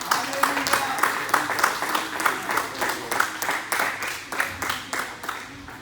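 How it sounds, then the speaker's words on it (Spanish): A church congregation claps in a quick, even rhythm, many hands beating together at moderate loudness for several seconds, steady and unaccompanied by talk. "Denle un fuerte aplauso al Señor."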